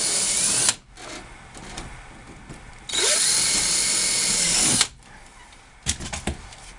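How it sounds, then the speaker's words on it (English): A power drill whirs loudly in two bursts, drilling a small pilot hole during a 1964–67 split window headliner installation, a short burst then a longer two-second run, with quieter handling noise between and brief clicks at the end. "So drill a little pilot hole."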